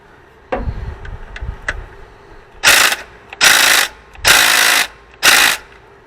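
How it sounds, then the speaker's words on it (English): A few faint taps, then four loud bursts of a hammer drill, each lasting about half a second with short pauses between, close and harsh. "See if the hammer drill will do anything"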